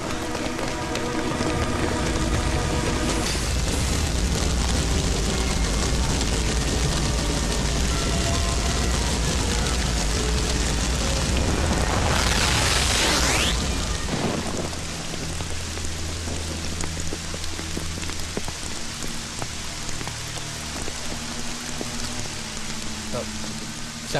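Heavy rain pours steadily and loudly in a forest, with a deep rumble of thunder building and cracking about halfway through before the downpour carries on alone.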